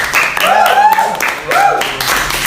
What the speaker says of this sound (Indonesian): Wah, tepuk tangan.